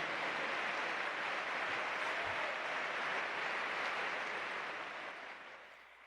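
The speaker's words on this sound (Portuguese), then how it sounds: "As palmas louvam o nome de Jesus" A church congregation applauds at a convention closing assembly, a dense, steady wash of clapping that holds evenly, then thins and fades toward the end, with no voices over it.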